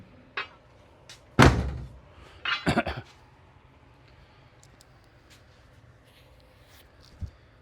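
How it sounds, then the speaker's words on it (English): An Avenger GT12 car door shuts with one loud, solid thunk, followed by a few lighter clunks and then near silence. "Let me close the door."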